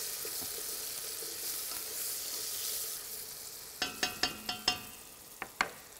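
Chopped onion and lamb meat fry in a pot with a steady broad sizzle, and a run of sharp clinks from a utensil against the pot comes near the end. No one speaks.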